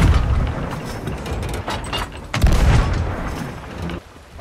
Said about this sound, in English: let's get him with some cannon shots